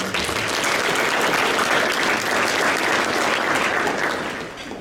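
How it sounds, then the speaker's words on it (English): Sustained applause from an awards luncheon audience, a dense, even wash of clapping hands that holds steady for several seconds before starting to thin out at the end. "So certainly join me in a round of applause celebrating that group of individuals"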